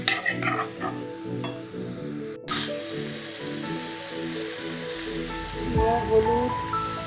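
Meat with bay leaves stirred and sautéed in a pan, with a steady soft sizzle under intermittent stirring scrapes and a rhythmic clatter early on.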